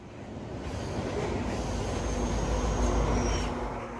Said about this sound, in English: The last train for us was 21M, 20W's counterpart, which we saw in Rochester yesterday